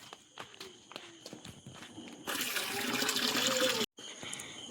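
Outdoors in the dark, a few footsteps approach, then water is poured out in a loud, splashing gush for over a second before it cuts off abruptly.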